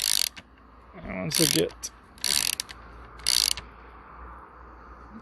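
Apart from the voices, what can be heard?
bearing puller tool pulling pivot bearing from bike frame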